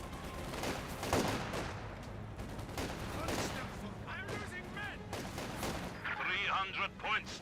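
Rapid gunfire and bursts crackle through a Company of Heroes 2 battle, with a half-track pressing a garrison; dense overlapping volleys run throughout at a steady, loud level, with some voice-like tones mixed in.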